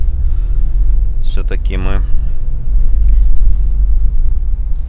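UAZ off-road vehicle with an automatic gearbox driving through town, a steady low engine rumble from inside the cabin with people talking briefly over it.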